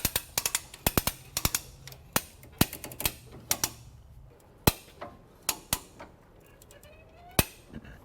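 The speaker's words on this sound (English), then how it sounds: "I like to grab a big ratchet strap and use the ratchet strap to pull the diff that way." A big ratchet strap is cranked to pull the differential into place during long-travel suspension work on a Lexus LX 450, giving sharp, close metallic clicks in quick clusters, then slower, spaced-out single clicks.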